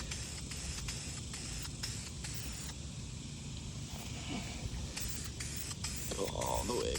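Black dye hisses from a spray can onto a car's carpet, a close, steady spray with short breaks between passes. A voice talks over it.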